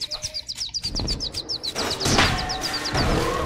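Birds chirp in the LEGO Jurassic World video game, a fast, steady series of high, clipped tweets running over a soft ambient game background, continuing as the backdrop grows fuller.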